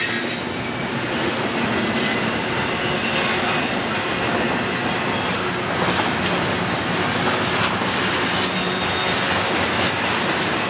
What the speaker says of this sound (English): Frank, there's a locomotive on that end.